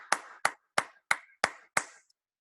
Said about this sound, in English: Let's clap it up for all our new World Team members.